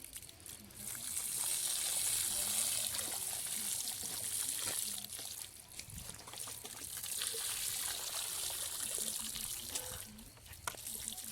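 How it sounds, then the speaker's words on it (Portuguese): Water poured onto bare soil to simulate very heavy rain, pouring and trickling steadily for several seconds, a constant splashing hiss that swells and eases, with faint talk underneath. "quando eu simular uma chuva muito forte, o que é que vai acontecer?"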